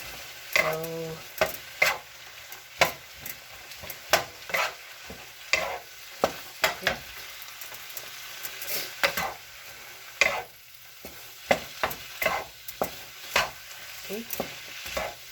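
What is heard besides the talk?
stir-frying shrimp and asparagus fried rice in oil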